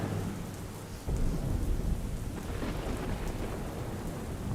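Heavy rain pours steadily, a dense broadband hiss with a deep rumble swelling in after the first second, no voices.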